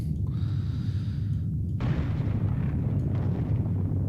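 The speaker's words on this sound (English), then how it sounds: "I think we're just hearing kilo breakup noises at the moment." Deep, continuous rumbling underwater roar of a Kilo-class submarine breaking up in the video game 688(I) Hunter/Killer, with low groaning and crackling, a heavy muffled churn that persists throughout without pause.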